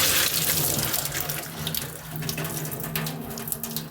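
Cooked pasta drained in a kitchen sink: a loud, close, continuous rush of water splashing into the basin with a faint steady hum underneath, no talking.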